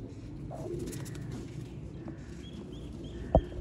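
Pigeons of a Feroz Puri bloodline kept on a rooftop coo softly at middle distance over a steady low rumble of background noise, with one sharp brief knock near the end.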